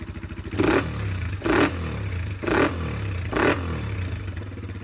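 A Honda XLR125R motorcycle engine with a CRF exhaust revs up in four quick, loud throttle bursts over a steady idle rumble, each blip rising and falling back.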